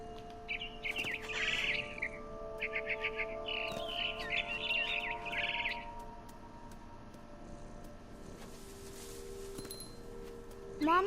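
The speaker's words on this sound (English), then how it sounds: "It was a barn swallow going back to her nest." A frightened barn swallow in the game What Remains of Edith Finch gives two bursts of quick, high chirps, faint over a steady tonal music bed, followed by quieter scattered clinks.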